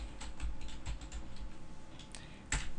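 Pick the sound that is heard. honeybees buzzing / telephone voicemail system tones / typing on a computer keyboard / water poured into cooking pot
typing on a computer keyboard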